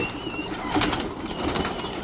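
Pet pigeons cooing with brief bursts of wing flapping, close by, over steady background noise.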